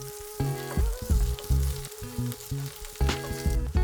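Broccoli and mushrooms with garlic stir-fry in olive oil, sizzling loudly and steadily while a utensil scrapes and stirs in short repeated bursts over a busy hiss.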